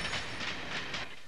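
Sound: train travelling to Crewe, England

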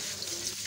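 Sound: water running while washing rice

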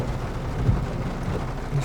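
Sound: rain shower during a coriander harvest

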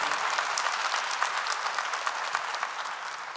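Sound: congregation applauding

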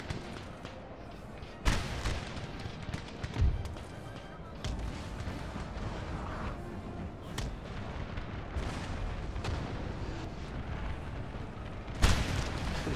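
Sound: cannon fire in Napoleon Total War video game

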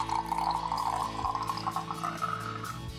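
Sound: pouring paint mixture into an empty Pepsi bottle

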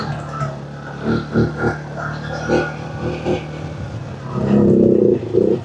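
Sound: CFMOTO CForce 450 L ATV engine revving on throttle

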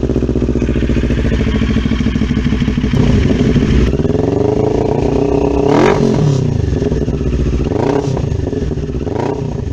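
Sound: 400NK twin-cylinder motorcycle engine revving

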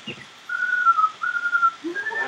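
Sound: whistled imitation of a bird call

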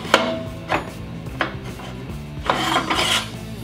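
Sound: round bars sliding into a WeldTables fab brake

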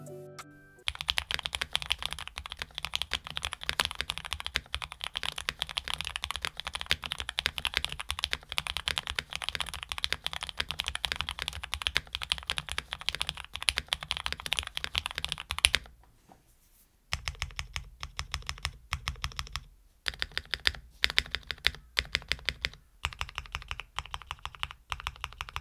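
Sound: typing on a custom mechanical keyboard

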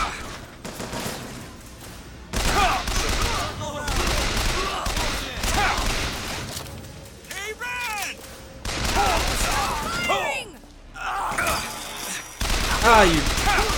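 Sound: gunfire in a video game

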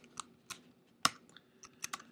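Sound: typing code on computer keyboard

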